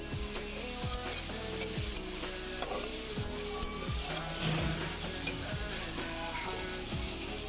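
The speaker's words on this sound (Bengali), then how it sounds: "মাছটা ভালোভাবে ভেজে নিচ্ছি" Shrimp fry in hot oil in a kitchen pan, a close, steady sizzle broken by repeated scraping stirs of a utensil.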